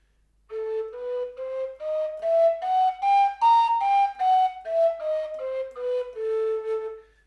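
A breathy Romanian kaval flute plays a slow rising and falling sequence of overblown notes, each separate and close, with no talking.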